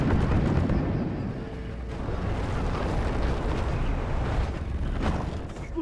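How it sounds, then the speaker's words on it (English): A cluster grenade goes off in the Deep Rock Galactic cave shooter, a dense roaring wash of overlapping blasts and rumble that stays loud and sustained the whole time. "Watch for the cluster grenade!"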